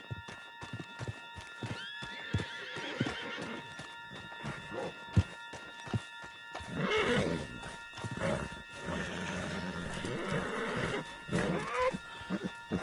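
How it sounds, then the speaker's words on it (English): In the Red Dead video game, a horse snorts and whinnies loudly while its hooves clop irregularly on the ground, with a tonal musical hum underneath. "Get him on the horse and let's go."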